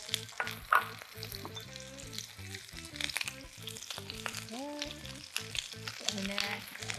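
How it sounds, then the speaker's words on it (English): Vegetables sizzle in a big wok for a garlic honey chicken stir fry, a soft steady hiss with crackles under background music, with occasional stirring clatter. "All right, it's sizzling."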